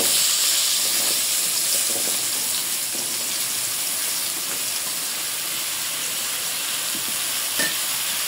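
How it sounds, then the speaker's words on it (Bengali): Taro stolons (kochur loti) frying in oil in a wok make an even, continuous sizzle and hiss with faint bubbling and light stirring, with no voices. "লতিগুলো ভেজে নেব।"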